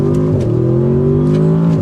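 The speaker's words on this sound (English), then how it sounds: "That exhaust note is music to my ears." A 2024 Audi S8 luxury sedan's exhaust drones loud and close under acceleration, a deep steady engine tone with a brief dip as it shifts before climbing again.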